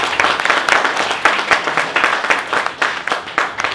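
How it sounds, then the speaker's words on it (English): Audience applause at a community tech and startup event, individual claps clearly audible in a fairly close, moderately sized crowd, rhythmic and steady throughout. "So just another round of applause,"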